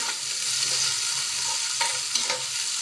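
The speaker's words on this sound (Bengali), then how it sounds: "তারপর দিয়ে দেব পরিমাণ মতো পেঁয়াজ কুচি, কাঁচামরিচ 4-5টা দিয়ে এখন নাড়াচাড়া করব।" Chopped onions and four or five green chilies stirred and frying in a pan for a banana-and-fish curry, with a steady close sizzle and occasional scraping stirs throughout.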